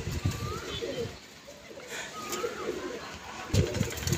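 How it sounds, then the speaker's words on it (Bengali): Pigeons cooing near and far at a tournament pigeon-flying session, soft repeated coos over outdoor background noise, with bursts of wing and landing activity and faint voices. "এই পায়রা নামছে।"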